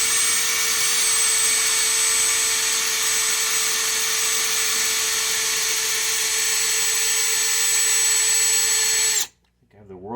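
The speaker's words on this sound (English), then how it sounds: "we're going to drill a pilot hole for them" A power drill bores a pilot hole in plastic with a dull bit, whining steadily at high speed for about nine seconds, loud and close, then cuts off abruptly into near silence.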